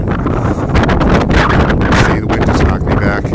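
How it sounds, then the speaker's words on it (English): Hurricane-force wind on a Pacific Crest Trail mountain slope buffets the microphone in a continuous loud roaring rumble with gusting swells, close and overwhelming. "It's literally hurricane force winds, and I've been in hurricanes, so I know."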